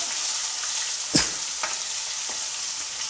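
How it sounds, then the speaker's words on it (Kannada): Ginger-garlic paste frying in a pan over a gas flame: a steady close sizzle with a few soft stirring scrapes and clicks, no voices. "ಇದು ಸ್ವಲ್ಪ ಹಸಿ ವಾಸನೆ ಹೋಗೋವರೆಗೂ ಫ್ರೈ ಮಾಡ್ಕೋಬೇಕು"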